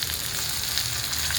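Tomatoes dropped into a hot pan with onion and spices, giving a steady, close, bright sizzle of frying.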